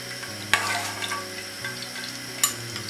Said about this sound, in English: When it's hot, we're going to add